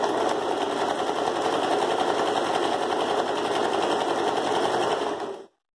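A sewing machine set to its lowest speed runs continuously while stitching a floral rug, a steady, even mechanical whir that holds for about five seconds and then cuts off abruptly.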